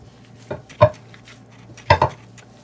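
Minced mutton being mixed with fennel powder and salt for goshtaba, heard as a few separate clinks of a utensil against a bowl, spaced apart over quiet background.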